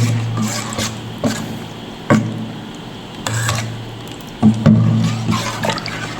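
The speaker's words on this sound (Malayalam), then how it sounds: "നമുക്കിതാ ഇങ്ങനത്തെ ഒരു തവി ഉപയോഗിച്ചൊന്ന് ഇളക്കി മിക്സ് ചെയ്യാം." A ladle stirs a thick mango pickle mixture, giving repeated wet scraping and squelching strokes in an irregular rhythm, close and fairly loud, with no voices.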